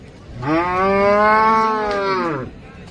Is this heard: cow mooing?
yes